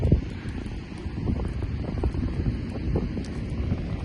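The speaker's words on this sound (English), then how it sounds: "Because the wind's blowing that way." Wind blowing steadily outdoors beside a campfire where marshmallows are being roasted, a continuous low rumbling buffet against the microphone with faint rustling and crackle mixed in.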